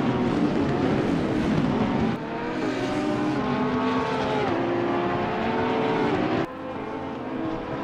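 A 2018 Porsche GT3 R race car screams at full throttle around Spa in Assetto Corsa Competizione, loud and close, the engine note climbing through the gears with sharp breaks at each shift and no talk.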